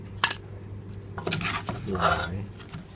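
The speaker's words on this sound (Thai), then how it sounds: "เสร็จแล้วเราก็ตักใส่ชามนะครับ" Boiled shrimp in fish sauce being ladled into a bowl: a few clinks and scrapes of a ladle against a pot and dish, close and fairly quiet, in short separate knocks.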